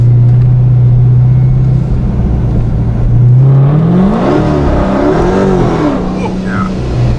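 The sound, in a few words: 426 Procharged Scat Pack car accelerating under supercharger boost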